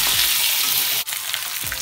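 Turmeric-rubbed eggs frying in oil in a kadai, a loud continuous crackling sizzle with a brief dip midway and a few soft utensil knocks.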